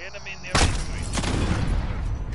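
Gunfire in Call of Duty breaks out as a sudden loud blast, then carries on as a rough, crackling burst of shots close by under a steady wash of game noise.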